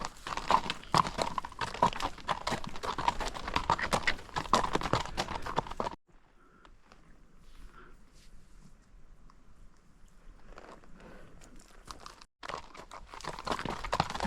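Two horses walk along with steady clip-clopping hooves, close and fairly loud for the first six seconds, then fading to faint rustling before the hoof beats return near the end.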